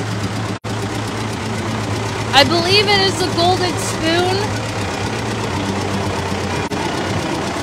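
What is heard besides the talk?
loud tractor engine in a Christmas parade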